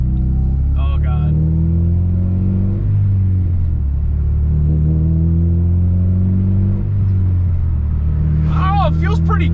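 A Honda K24-swapped car engine running stock hums in a loud, steady low drone with a couple of gradual rises and falls in pitch, close up, while someone talks over it.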